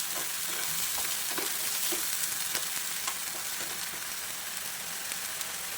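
Potatoes fry and sizzle steadily in a pan with a garlic, ginger, onion and chili masala paste, a continuous close crackle with occasional stirring scrapes and no talking.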